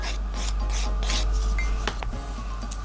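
A sculpted acrylic nail being filed off, a close, loud steady rasping rub with a few short scraping strokes and light clicks near the end.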